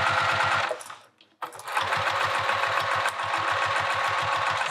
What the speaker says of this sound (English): You don't want to backstitch too much with vinyl because you can perforate it.